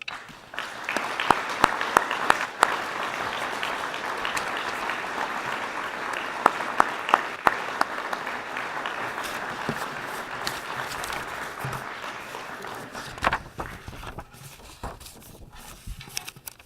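An audience at a chamber of commerce awards banquet dinner claps steadily for a business award winner, a dense room-filling applause with a few sharp claps standing out, thinning toward the end.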